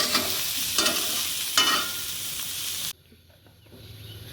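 Dry red chillies and bay leaves tempering in hot oil in a kadai crackle and sizzle loudly up close, with a few stirring scrapes, before the sizzle suddenly drops away to quiet near the end.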